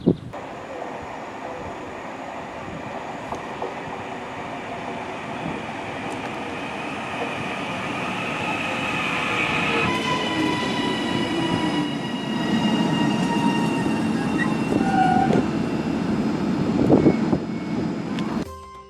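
A passenger train on the Preston and Wyre Joint Railway rumbles along steadily, growing louder as it runs, with faint wheel squeal and rising whining tones partway through; no voices.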